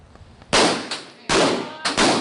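Gunshots ring out at a busy Virginia firing range: three loud, sharp blasts with short echoing tails, spaced unevenly over a couple of seconds, close by and dominating a quiet background.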